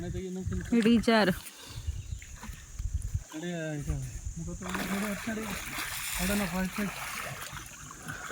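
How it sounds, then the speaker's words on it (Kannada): Flowing river water with swimmers splashing in the current, the watery splashes and gurgles running beneath frequent nearby voices of people talking and calling out. "ನೀರು ಹಿಂಗೆ ಆ ಕಡೆಗೆ ಹೋಗ್ತಾ ಇದೆ"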